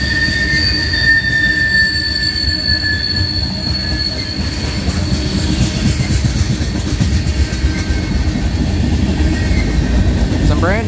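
A Norfolk Southern freight train with a mid-train distributed power unit rumbles past up close, wheels squealing with a sustained high-pitched screech over the heavy, continuous roll of the cars.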